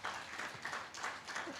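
An audience at a Kenya coast tourism investment conference claps, a brief, faint and fairly distant patter of applause in a large room.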